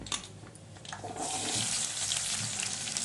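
Sliced onion drops into hot oil, and a broad sizzle rises and holds steady for a few seconds after a short clatter.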